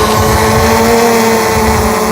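A DJI Mavic 2 Zoom drone coming down, its propellers giving a loud, steady, close buzzing whine with tonal hum throughout, with no talk over it.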